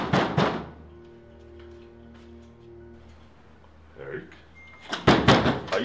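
Heavy banging on a door comes in loud clustered thuds at the start and again near the end, with a steady hum and brief voices in between.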